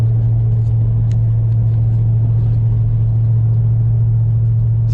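A Dodge Power Wagon on 37-inch tires rolls over a bumpy road, its steady low engine and road rumble droning continuously from inside the cab with faint rattles above.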